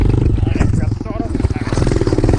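A small Apollo 125cc motorcycle held in second gear climbs a steep slope, its single-cylinder engine loud and close as the throttle opens, a rough pulsing drone that labors and bogs near stalling.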